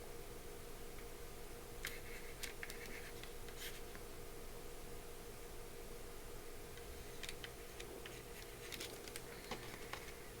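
Handwriting an equation, likely marker or pen on a board, heard as faint intermittent scratchy strokes in short bursts over a steady background hum, with no talking.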